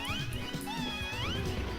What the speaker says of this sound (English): Oh, this freaking cat. Yeah! That noise.